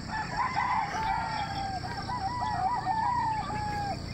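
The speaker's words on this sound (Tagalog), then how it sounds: "dami manok," Many roosters crowing on a hillside farm at five in the morning: one clear, drawn-out crow with wavering pitch close by, over a steady background of other fowl and ambient hum.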